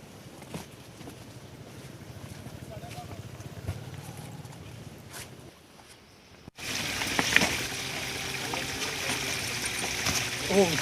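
Flowing water from a stream or waterfall out in the wild: a faint, distant rushing, then after an abrupt cut a louder, steady broadband rush of water close by.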